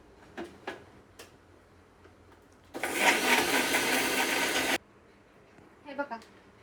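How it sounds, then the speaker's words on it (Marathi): A mixer grinder whirs loudly for about two seconds, blending homemade shampoo ingredients, its steady motor roar starting and stopping abruptly amid quiet ticking and handling clicks. "आणि आता ह्याला मिक्सरला फिरवणार आहे चांगलं."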